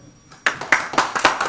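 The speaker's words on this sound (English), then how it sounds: "Give Jesus the best hand clap." A church congregation breaks into hand clapping, a burst of sharp, fairly close claps in a quick irregular rhythm after a brief quiet lead-in.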